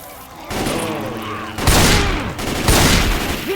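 Gunfire at a truck in the video game Hard Rain, heard as loud, dense volleys of rapid shots and blasts in several bursts, with players shouting over the shooting.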